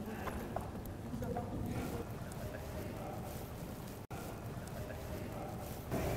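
A horse trotting during a show-jumping riding lesson, with steady rhythmic hoofbeats under outdoor wind noise while an instructor talks over the gait.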